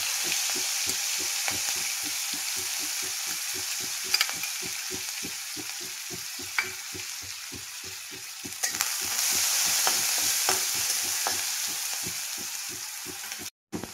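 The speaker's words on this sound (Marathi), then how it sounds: "हिरवी मिरची, कढीपत्ता आणि लसणाची पेस्ट आहे ना छान भाजली आहे." Green chili, curry leaf and garlic paste with cumin fries in a pan, a steady close sizzle broken by a quick, regular run of spatula strokes and scrapes throughout, with no talking.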